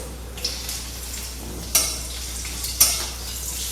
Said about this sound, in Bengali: তেলের মধ্যে দিয়ে দেবো ফোড়ন, গোটা জিরে, কাঁচা লঙ্কা চেরা